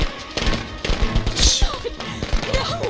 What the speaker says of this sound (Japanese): 爆竹をして反対側に逃げる